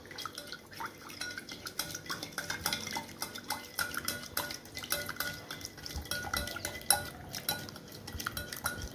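Cake batter of eggs, oil and vanilla being stirred in a bowl, giving soft continuous scraping and light clinks of a utensil against the bowl, fairly quiet and close with no voices.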